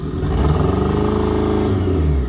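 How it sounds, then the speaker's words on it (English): A car engine revs nearby with a deep, throaty rumble. It holds a steady, slightly wavering drone that swells briefly, with no talking over it. "You hear Shayla's car in the background."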